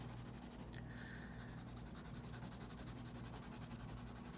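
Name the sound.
shading a road drawing with the side of a pencil crayon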